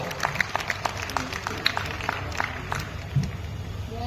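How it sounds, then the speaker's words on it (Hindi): Scattered applause from a small audience at a Hindi comic poetry gathering, sparse and uneven claps with a faint murmur of voices underneath. "और एक बार फिर से तालियां बजाएं हमारे दमदार बनारसी जी के लिए, दमदार तालियां बजाएं"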